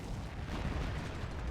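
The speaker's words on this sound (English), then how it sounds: "Very interesting to know what this Calliope barrage was trying to hit." Calliope rocket artillery barrage in a war video game, a dense continuous rumble of overlapping explosions and booms filling the whole short stretch without pause.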